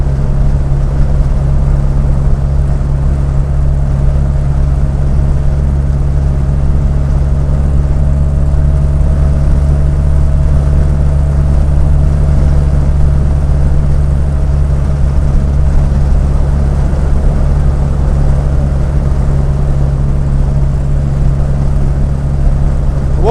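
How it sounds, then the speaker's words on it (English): A Triumph Herald is driven at speed, its engine droning loud and steady with a low hum and wind roar layered over it, continuous for the full stretch with no talking. "what you can probably hear now is excessive engine noise as well as excessive wind noise"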